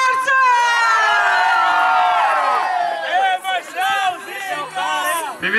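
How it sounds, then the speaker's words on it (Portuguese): Guests at a birthday party in Guarulhos cheer and shout loudly and up close, with high whoops and overlapping voices that swell and then break into bursts of excited calling. "Uma salva de palmas pro Márcio!"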